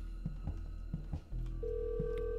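Telephone ringing inside the Hello Neighbor video game, a steady electronic ring tone with repeated pulsing beeps over a constant low game hum, fairly loud and alone with no talk.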